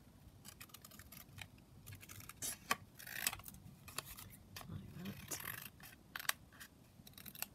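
Scissors trim a printed book image for a journal, giving soft, quiet snips and paper rustles in short irregular bursts.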